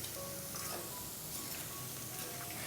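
Soya chunks coated in masala fry in hot oil while being stirred now and then, making a steady, dense, quiet sizzle with no voices.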